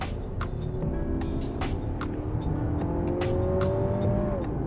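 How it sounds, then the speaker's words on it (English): A Lexus RX350's 2.4-litre turbo engine hums and climbs in pitch as the vehicle accelerates smoothly through its 8-speed gearbox, heard from inside with steady road noise underneath. "A bit of acceleration."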